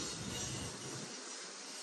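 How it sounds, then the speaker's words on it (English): A BNSF or Union Pacific container stack freight train rumbles past with broadband roaring and rolling noise, loud and steady, the low rumble easing off toward the end. "Awesome train action there."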